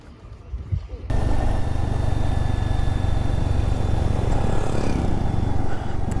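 A loaded Royal Enfield Guerrilla 450 motorcycle pulls away in the mountains, its engine droning loud and steady close by after a quieter first second, with a voice briefly heard at the start.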